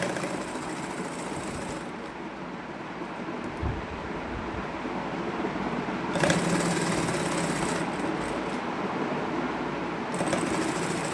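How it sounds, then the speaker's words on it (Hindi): Sewing machine stitching a lace tassel onto the hem of a hanging latkan daman, with a steady mechanical whir that runs close and continuous for the whole stretch and brief shifts in speed partway through. "तो यहाँ पे इस तरह से इसको सिलाई चलाएंगे।"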